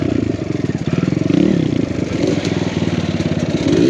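Close, loud engine of a dirt bike with a big bore kit on a trail, chugging and revving in rapid pulsing throbs.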